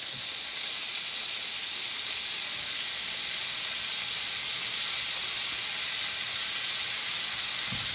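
Butter sizzles in a hot pan alongside a pork chop with rosemary and garlic, a steady bright hiss that holds evenly throughout without any talk.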